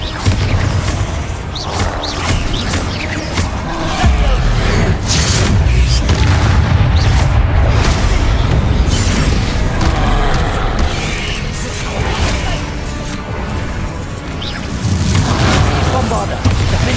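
Spell explosions in the Hogwarts Legacy video game, heavy booming blasts and crashing impacts in dense succession over rumbling combat noise, loud and close, with a voice calling out under the action.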